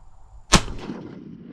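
One sharp, loud shotgun blast outdoors while duck hunting in Tasmania, with a brief rumbling echo trailing off afterward.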